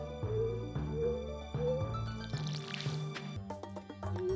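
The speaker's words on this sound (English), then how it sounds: "We need to water this strip right here." Watering crops in the Stardew Valley game: a run of bright, bubbly splash-and-drip effects repeating about every half second over a soft, melodic background tune.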